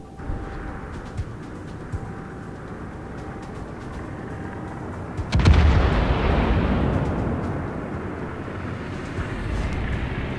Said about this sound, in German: Ah, sind unsere Flugzeuge.